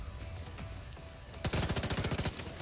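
Rapid automatic gunfire in The Division 2 (Warlords of New York DLC final mission), loud and close, a dense burst of shots in the second half after quieter battle ambience.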